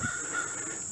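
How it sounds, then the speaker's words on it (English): Crow-like birds caw outdoors along a storybook trail, a faint, steady wash of calls heard from a distance with no talk. "You can hear the birds."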